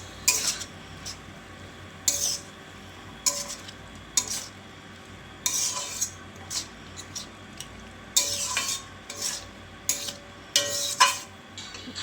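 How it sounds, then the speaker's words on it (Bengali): Banana blossom being stirred and sautéed in a cooking pan, with repeated metallic scrapes and clinks of a utensil against the pan over a faint steady sizzle. "এখন কলার মোচাটা দেওয়ার পর 10 মিনিট ভালো করে এটাকে একটু কষিয়ে নিতে হবে"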